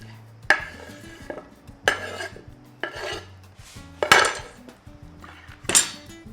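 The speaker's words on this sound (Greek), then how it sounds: "Ανακατεύουμε επίσης απαλά" Raisins and walnuts being gently folded into cake batter in a bowl, a series of soft, separate scrapes and light clinks of the utensil against the bowl, close and spaced out.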